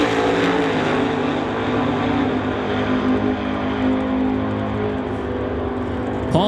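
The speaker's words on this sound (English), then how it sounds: "Paul Debris, you can hear him working the throttle, gets out of it 793 with a 570 miles an hour" A drag racing car sits in staging with its engine rumbling loudly, the throttle worked in sustained revs and a sharp blip near the end, heard close and alone without talk.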